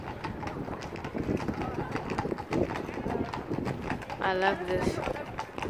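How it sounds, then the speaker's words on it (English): Horse hooves clip-clop in a rhythmic patter under nearby talking outside Buckingham Palace, with a brief whinny-like call near the end. "Look at the horses here"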